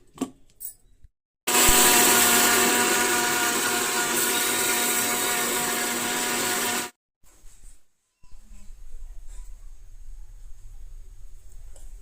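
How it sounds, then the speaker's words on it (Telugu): A kitchen mixer grinder grinds roasted chickpeas with carom seeds, its motor starting abruptly and whining loudly for about five seconds before cutting off, followed by quiet clatter and faint background noise. "మిక్సీ పడదాం"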